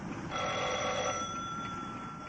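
A telephone bell rings once in a single steady burst, clear and close, with no talk over it.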